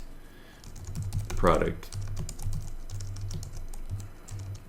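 Fast typing on a computer keyboard sounds as close, faint clicks in uneven bursts under a quiet room hum, with a single spoken word in the middle.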